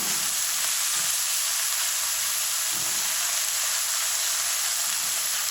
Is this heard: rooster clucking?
no